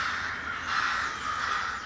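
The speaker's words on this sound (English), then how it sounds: "It's a swarm of crows, it sounds like." Crows caw repeatedly in a steady, overlapping chorus at moderate distance, heard in a television drama scene with no talk.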